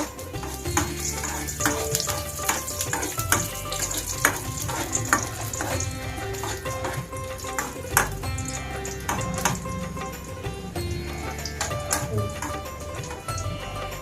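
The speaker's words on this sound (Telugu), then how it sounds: "కిస్మిస్ వేయించుకోవాలండి కొంచెం" Raisins fry in a pan with a continuous sizzle, and a spoon stirs and taps against the metal in frequent sharp clicks. Background noise and some faint voice-like sound run underneath.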